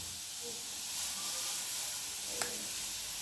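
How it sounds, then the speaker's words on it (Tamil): Banana flower juice boils in a pot for a homemade hair dye, a steady soft hiss and faint bubbling that continues evenly, with one brief clink near the end. "இந்த வாழைப்பூ சாறு நல்லா கொதிக்குது"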